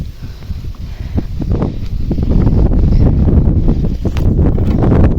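Steady gusty wind buffets the microphone with a low rumbling roar outdoors in a vegetable garden, with scattered rustling and thumps throughout.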